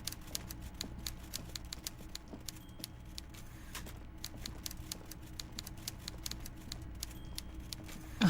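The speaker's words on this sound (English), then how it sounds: "I love the sound of a typewriter" A typewriter types steadily in Disco Elysium, rapid faint key clacks in an even rhythm over a low ambient hum, with no talk.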